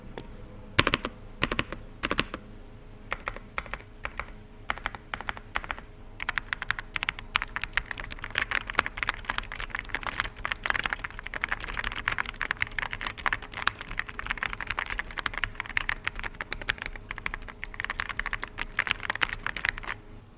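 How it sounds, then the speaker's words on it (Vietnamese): Steady typing on a Xinmeng X98 Pro Bluetooth mechanical keyboard, a fast, continuous run of close, crisp key clicks lasting throughout with no talking. "phần sound test về gõ phím"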